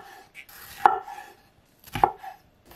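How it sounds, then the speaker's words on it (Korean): A knife cuts through a bell pepper on a board, two crisp, close chops about a second apart, each a sharp crunch followed by a knock against the board, with quiet handling in between. "파프리카는 씨를 제외하고 자르시고요."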